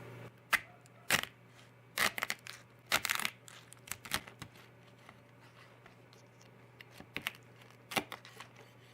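Three 5-ounce lobster tails are cut down the middle with a knife, giving irregular crunching cracks through the shell, some in quick clusters, others single and sharp. The sounds are close, with a low steady hum underneath.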